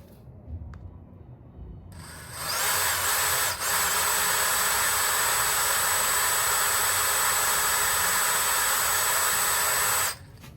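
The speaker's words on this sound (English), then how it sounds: "Just drill straight through the center." A power drill whirs steadily at close range for about eight seconds while drilling through wood, with one brief dip partway through, then cuts off.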